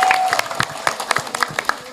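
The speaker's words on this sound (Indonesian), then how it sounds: "Tepuk tangan untuk kita semuanya." Scattered clapping from a small crowd at a birthday event on a stage, a brief burst of separate, distinct hand claps close by, with a faint tone at the start.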